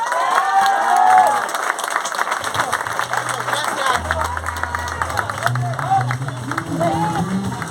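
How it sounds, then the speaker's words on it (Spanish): A crowd at a visit of a Saint Francis of Assisi figure to a forest claps steadily and loudly, with a murmur of voices and sustained musical tones underneath. "Un aplauso a San Francisco."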